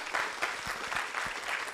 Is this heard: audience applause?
yes